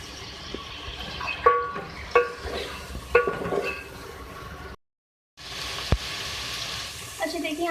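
Beef pieces with onion and ginger-garlic paste fry in a pan under a soft sizzle. Sharp utensil scrapes and clinks stir through it, with a short silent break and a few quiet voices nearby.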